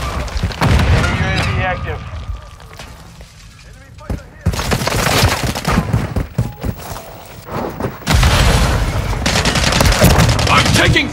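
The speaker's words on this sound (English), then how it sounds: "Taking fire!" Multiplayer gunfire in Call of Duty Modern Warfare 3 on PS5, loud bursts of rapid automatic fire with heavy thumps, broken by a brief lull, with in-game voice callouts heard over the shooting.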